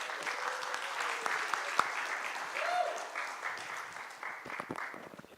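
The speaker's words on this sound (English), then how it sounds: "So let's give a round of applause." Applause from a pitch-competition audience welcoming a shoe-care startup, a steady wash of clapping with a brief tone partway through and some voices mixed in.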